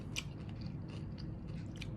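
Close, steady chewing of something crisp, with brief crunchy bursts over a low, constant background hum.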